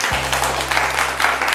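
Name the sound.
audience applause for Shalini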